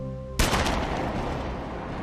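A single loud gunshot cracks out in a film scene, a sharp sudden blast that cuts off a low tonal hum and leaves a long reverberant decay.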